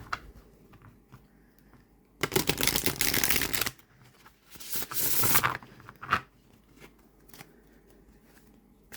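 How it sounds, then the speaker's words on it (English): Llewellyn cardstock tarot cards are riffle shuffled up close, two loud fluttering bursts of cards riffling together, each a second or so long, with softer handling taps and rustles between them. "Especially if you love to riffle shuffle."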